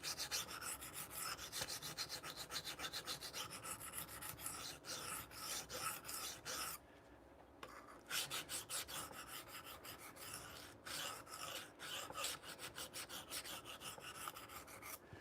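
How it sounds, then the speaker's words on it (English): A knife blade is drawn repeatedly across a very coarse sharpening stone, producing a harsh, gritty rasp in steady back-and-forth strokes, close and continuous apart from one short pause. "You can see I've removed a lot of material from this knife quickly with that very, very coarse."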